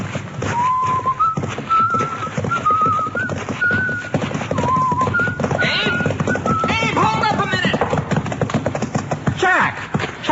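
A horse clip-clops at a walk alongside a scene with people talking, and a series of short high whinny-like calls and whistly chirps sounds throughout, fairly close and moderately loud.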